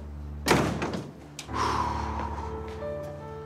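A door is pulled shut with a single solid thud near the start, followed by a fainter knock and a lingering low hum in a quiet indoor room.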